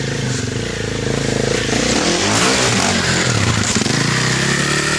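Motorcycle engine revving loudly and steadily up close during a ride through a creek, with rising throttle surges and mechanical clatter, and no talk.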